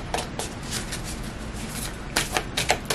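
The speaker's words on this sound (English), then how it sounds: "And just shuffle these, cut the deck" A tarot card deck being shuffled up close, a run of quick crisp riffling bursts and flutters over steady background hiss, with louder clustered clicks near the end and no talking.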